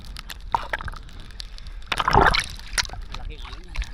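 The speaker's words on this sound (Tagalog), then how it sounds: "Laking alon yan." Big ocean waves at a white sand beach in Masbate, with a surge of crashing water swelling midway among lighter splashes and sloshing, while people talk nearby.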